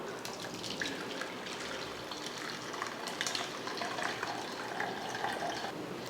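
Watermelon juice strained through a sieve at home, a steady close trickle and splash of liquid running continuously for several seconds with no talk.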